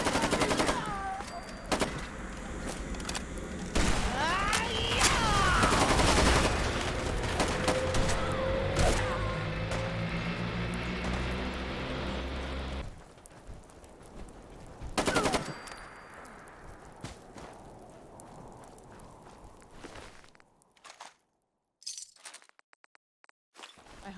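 Gunfire in Fallout 4 at Dunmore Homestead: rapid automatic bursts and single loud shots crowd the first half, then sparser sharp cracks follow over game noise, with voices talking now and then.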